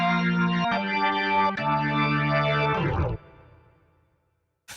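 A keyboard organ patch, played without the amp simulator: clean, bright sustained organ chords shift twice, then die away into a fading tail, with a brief sound at the very end. No voices.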